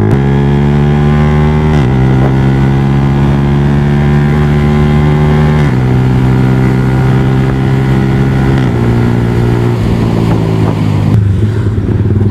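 A V4 motorcycle fitted with an Akrapovic exhaust revs hard, its loud, steady engine note rising and settling through several throttle blips, close up and without any talk.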